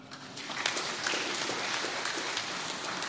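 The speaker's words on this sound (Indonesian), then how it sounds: "Silakan tepuk tangan." An audience at the opening of a special DPRD plenary session for the Maluku Tenggara regency anniversary breaks into applause, a fairly quiet, continuous patter of many hands without voices.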